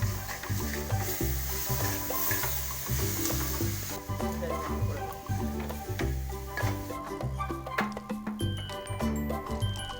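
Date-palm jaggery cooking down in a pan for a sweet filling hisses and sizzles steadily, with scraping stirring strokes and a soft rhythmic tinkling pattern running through, no one talking.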